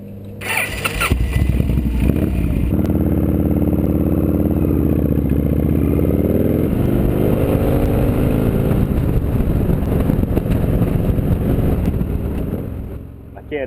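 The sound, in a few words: motorcycle engine starting and idling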